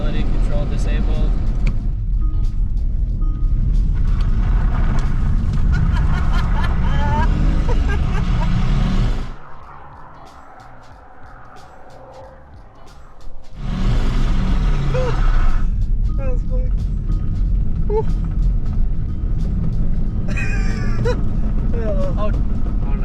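A Kia Stinger GT is driven in sport mode with traction and stability control disabled. Loud, steady engine and road roar fills the cabin, dips to a quieter stretch midway, then surges back.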